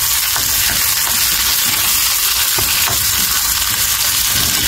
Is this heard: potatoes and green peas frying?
yes